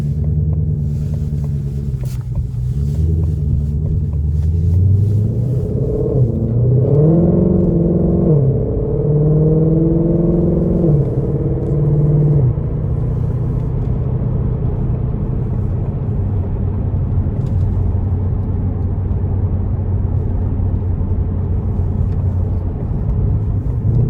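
2020 Shelby GT500 engine on a road test drive, a deep, loud rumble heard from inside with clear rising and falling revs in the first half, then settling into a steady low cruising drone.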